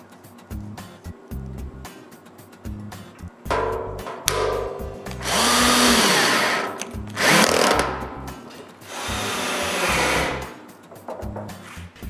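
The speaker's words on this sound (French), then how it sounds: "puis je visse le tout en place" A power drill drives screws to fix a small cyclone separator in place in a woodworking shop, with several whirring bursts of varying length, some long and loud, mixed with short low thumps and handling noise.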